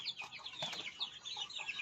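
Chickens cluck repeatedly in soft, overlapping bursts, a small flock of native chickens nearby with no talking.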